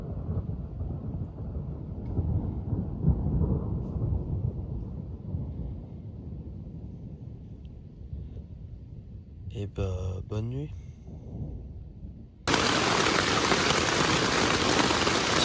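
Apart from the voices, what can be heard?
nearby thunderstorm with thunder and rain at night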